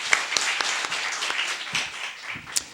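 A church congregation claps together in steady, scattered applause during a Sunday worship service, moderately close and continuous without talk.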